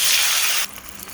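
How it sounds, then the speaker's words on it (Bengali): Water hits a pan of browned fried onions with a loud close spray of sizzling that lasts about half a second, then drops to a softer bubbling hiss. "এখন পানি দিয়ে দিচ্ছি।"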